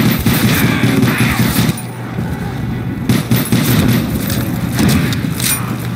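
Rapid HG40 submachine gun fire rattles in Call of Duty: World at War zombies on the Nightclub map, loud close bursts of automatic shots with a brief pause midway before firing resumes.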